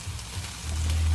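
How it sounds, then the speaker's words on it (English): Onions fry in a pan with a close, continuous sizzle and crackle that swells slightly toward the end. "I'm going to fry that off just for a couple of minutes until those onions start to turn golden"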